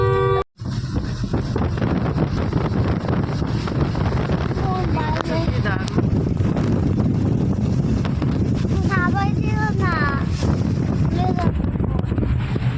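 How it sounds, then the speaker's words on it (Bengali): Strong wind roars steadily against the microphone throughout, a loud broadband rush shaking a car at the coast at Mandarmani, with brief voices and chirping sounds breaking through in the middle. "প্রচন্ড হাওয়া দিচ্ছে, গাড়ি কাঁপছে"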